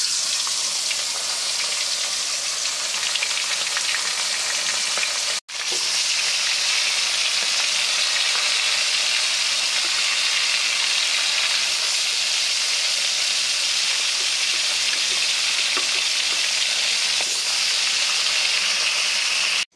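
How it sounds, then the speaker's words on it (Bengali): Fish fries in hot oil in a wok, giving a dense, continuous sizzle and crackle, close and steady throughout, broken by one brief dropout early on. "কড়াইয়ের তেল দেখো গরম হয়ে গেছে মনে হয়, মাছটা আস্তে আস্তে দিয়ে দেবো।"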